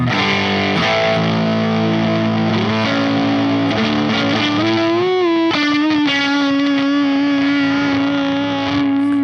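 Heavily distorted electric guitar through a JHS Kilt fuzz pedal with a gritty, buzzy, Velcro-like fuzz tone, sustained chords sliding into bending notes, loud and continuous without any voices.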